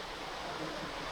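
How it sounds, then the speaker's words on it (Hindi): A river flows past a roadside family restaurant in the Bageshwar hills, heard as a steady, broad rush of water with no breaks, moderately distant and fairly faint, with no talking. "ये नदी बह रही है इधर।"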